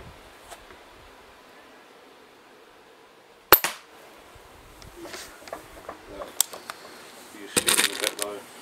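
Pellet gun shots strike a playing-card target, a sharp crack at about 3.5 seconds followed by smaller ticks and a brief rattle of impacts near the end, in an otherwise quiet setting with faint background.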